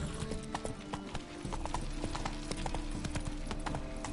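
Horse hooves clip-clop in a rapid galloping rhythm in The Witcher 3, a steady stream of close thuds and clacks with an occasional faint whinny.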